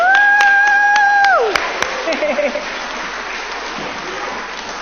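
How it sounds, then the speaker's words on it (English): Congregants applaud Hebrew school children after their music at a synagogue Shabbat service, a broad wash of clapping that takes over as a held musical tone fades, then continues at a moderate level. "there was no way we were not going to clap for you"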